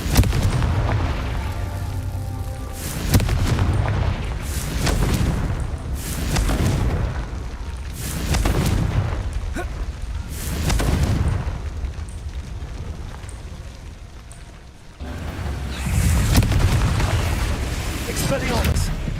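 Booming blasts from the Confringo explosion spell in the Hogwarts Legacy video game go off repeatedly, several loud bursts spaced a couple of seconds apart over constant game noise, with a voice talking throughout.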